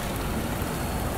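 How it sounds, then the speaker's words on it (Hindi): Heavy rain pours outside a fast-moving Shatabdi Express train on the Kalka route, a dense, steady hiss of water without voices. "कितनी ज़्यादा बारिश हो रही है यहाँ पर"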